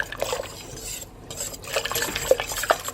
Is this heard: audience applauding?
no